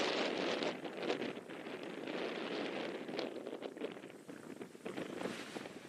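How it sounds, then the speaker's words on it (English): Wind buffets the microphones at an outdoor T20 cricket ground in Portugal, a steady broadband roar with gusty swells and no voices. "when it gets a bit windy, it sounds like my mate Russell"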